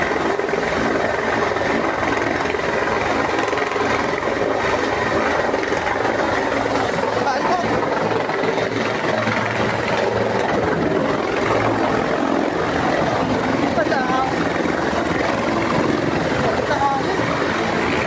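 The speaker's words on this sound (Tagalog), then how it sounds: "Ayan po ang isang helicopter na" A helicopter flies steadily and loudly overhead, its rotor drone continuous and close throughout.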